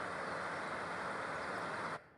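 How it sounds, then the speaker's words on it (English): Forest nature ambience used as a Xiaomi MIUI 10 system sound: a dense, continuous rushing bed of rustle and hiss that holds steady, then cuts off abruptly near the end, with no voices. "this is the sound of a forest"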